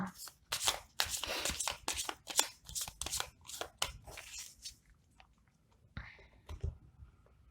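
Tarot cards are shuffled and cut in a quick run of crisp riffles and slaps, close and fairly quiet, followed by a few softer handling taps after a brief pause.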